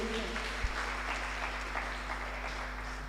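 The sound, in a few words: congregation applause in church service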